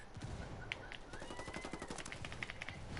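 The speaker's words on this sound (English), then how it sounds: "Taking heavy fire here." Rapid automatic gunfire from the video game Ghost Recon Wildlands, dense bursts of shots and impacts crackling continuously over a busy battle backdrop, no talking.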